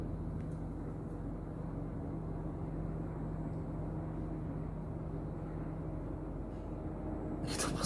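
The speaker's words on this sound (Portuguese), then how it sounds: "Estou passando um helicóptero aqui, eu vou dar uma editada no vídeo" A helicopter passing overhead gives a steady, fairly faint low droning rumble with a faint hum, continuous throughout with no voices, then a brief brighter burst at the very end.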